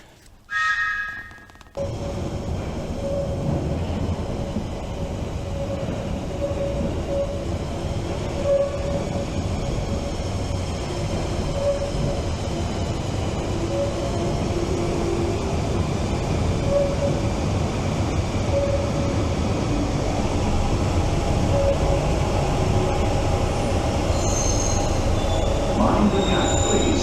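A London Underground tube train rumbles into a station on the line to Bank, its wheels squealing in long high-pitched tones over a loud, steady roar of rolling stock that keeps building to the end.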